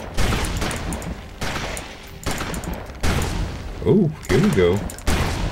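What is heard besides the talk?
ranged weapon firing in the video game Victor Vran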